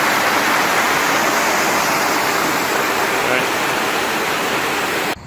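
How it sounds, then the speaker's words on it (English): Water draining out into Alley Creek in a glacier-carved creek valley in a New York City park, a steady close rush of flowing water that holds unbroken for about five seconds before cutting off. "So this water is draining out to Alley Creek"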